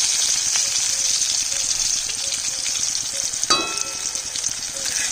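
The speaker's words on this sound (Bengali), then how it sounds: "পটলও ভাজা হয়ে গেছে, এখন মশলাটা দিয়ে দিব।" Pointed gourd fries in oil as a ground paste of fennel, ginger and green chili goes in, making a loud, continuous close sizzle with a brief burst of sputtering midway.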